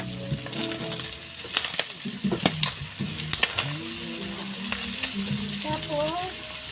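Dinuguan, a pork blood stew, frying in a pan while being stirred and seasoned, giving a steady close sizzle with scattered clinks and scrapes of the spoon, and voices heard faintly underneath.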